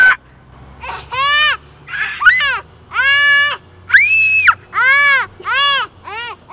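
An infant gives a long run of loud, close, tonal screams in regular bursts, roughly ten piercing wails separated by short pauses, with no talking in between.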